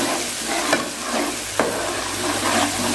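Masala sizzling in hot oil in a pan while it is fried and stirred until golden for chicken soup; continuous close crackle with two distinct spoon scrapes against the pan.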